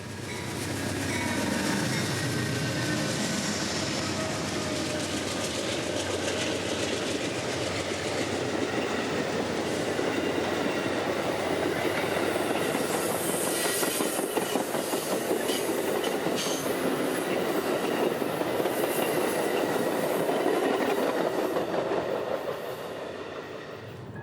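Train departing Kissimmee on Florida's A Line, a long continuous rumble of rolling railcars with rhythmic wheel clatter and occasional faint squeals, heard from nearby and steady for the full length.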